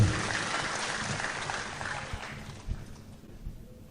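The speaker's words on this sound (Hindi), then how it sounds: "तालियां बजाएं इस बात के लिए।" Audience applause at a Bhiwandi mushaira, a dense wash of clapping from a crowd that fades gradually and leaves a few scattered claps at the end.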